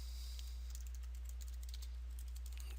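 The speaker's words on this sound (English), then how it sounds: "I cannot type today." Typing on a computer keyboard, a quick irregular run of light clicking keystrokes close by, alone over a low steady hum.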